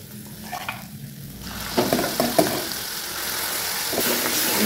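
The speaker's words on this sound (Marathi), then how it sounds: "आपण त्याच्यामध्ये ही हटलेली भाजी टाकून घेऊया." Chopped shepu (dill) greens go into a pan of roasted masala and are stirred, giving a soft sizzle with scraping spoon strokes and light clatter, close by and without speech.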